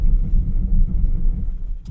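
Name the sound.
2025 Nissan Murano Platinum braking to a stop on snow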